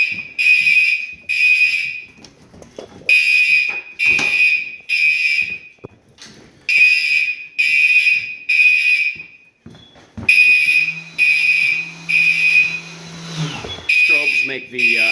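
Silent Knight 5208 fire alarm panel sounding during a walk test in a house, a loud repeating electronic horn pattern in bursts, with footsteps and clatter between and a low hum near the end.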